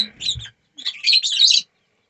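Parrots give short, high chirps in two bursts, the second longer and busier, close by with silence between.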